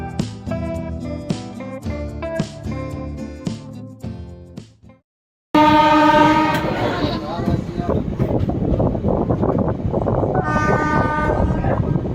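A fast-moving train gives a loud, continuous rumbling roar with tonal, horn-like notes above it, after an earlier stretch of harmonic voice or music sounds and a brief silence.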